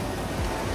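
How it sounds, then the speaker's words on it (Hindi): Heavy monsoon rain in Sohra, Meghalaya, pours as a dense, continuous hiss that stays loud and even throughout, with no voices. "यहाँ पे बहुत बारिश हो रही है, मानसून सीजन है"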